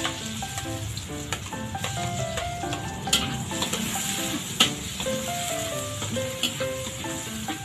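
Garlic crackles and sizzles in hot oil in a frying pan while being stirred, a steady close hiss with occasional scrapes and clinks of the utensil against the pan.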